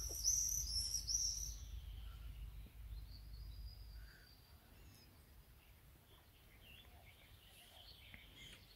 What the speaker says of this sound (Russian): Вот такого я не знаю, что за птица. И голосок издает такой.